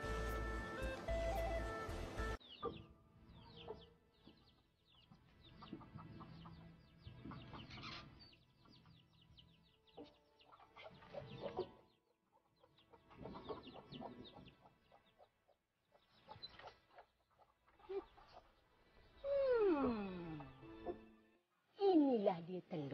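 Chickens cluck and a hen gives rising squawks in a village yard, the birds heard intermittently at close to middle distance with some clatter and background noise between the calls.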